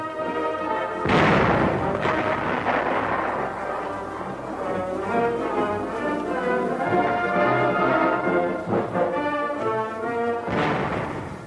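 The gun on a restored WW2 M10 tank destroyer is fired manually, producing heavy booming blasts at intervals over a dense, continuous roar. The firing sounds distant and layered, like an old film soundtrack with narration underneath.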